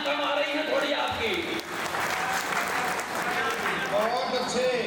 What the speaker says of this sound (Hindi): तालियां कम आ रही हैं थोड़ी आपकी।